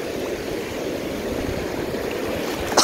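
Sea waves at a beach in Bolinao, a steady close wash of surf and water noise, loud and continuous with no talking.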